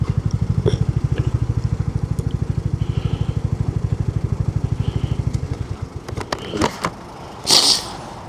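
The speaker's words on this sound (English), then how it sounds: "Oh my god, there's loads of bikes." Motorcycles idling at a group ride meetup in Kent, a steady, close, rhythmic engine throb that holds for several seconds before it cuts off, followed by brief clunks and rustling.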